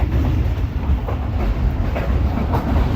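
Tezgam 8 Down passenger train rolling along the rails, a steady loud rumble with rhythmic clickety-clack of the wheels, heard close from inside a carriage with no voices.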